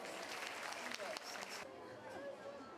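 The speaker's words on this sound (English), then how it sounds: "Give her a big round of applause." A burst of clapping from a crowd fills the first part, then cuts off abruptly, leaving quieter room noise.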